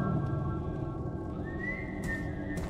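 A character whistles in the video game Dishwashing Simulator, a steady whistled tone rising in pitch midway and holding over a dense, continuous bed of game background sound, with no talk.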